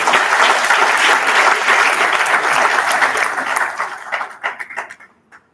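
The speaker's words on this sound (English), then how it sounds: "A big round of applause to our own." An audience at a university commerce school event applauds loudly in dense clapping that thins out into scattered claps and fades to silence.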